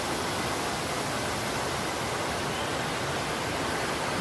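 River flowing behind a mountain campsite at morning, heard as a steady, dense rushing wash of water that stays even and fairly close throughout, with no voices over it.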